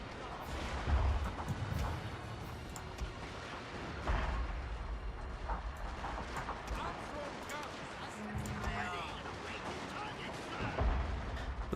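Artillery fires in Fall of the Samurai as a battle plays out, with repeated deep booms and crackling gunfire layered under continuous talk, the heavy thumps recurring every few seconds.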